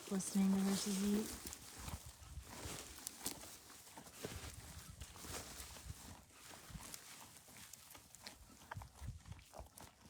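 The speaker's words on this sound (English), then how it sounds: "I love listening to horses eat." Painted mustang horses eating nearby, soft irregular chewing and crunching with shuffling hooves and occasional thuds, close and quiet, with a person talking briefly at the start.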